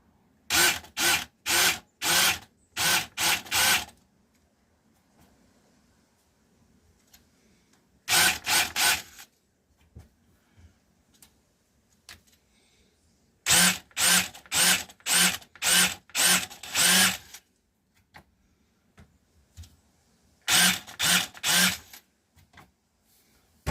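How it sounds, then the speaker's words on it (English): Four bursts of a high-pitched power drill with a countersink bit whirring into elm wood, each a rapid series of short pulses, close by, with quiet pauses between. "I've got a countersunk bit on my drill. Just gonna tidy these up a little bit."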